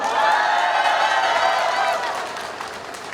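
A crowd at a political speech in Jeju applauds and cheers loudly, a dense wash of clapping with scattered whoops that eases slightly toward the end.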